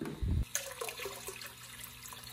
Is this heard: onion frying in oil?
no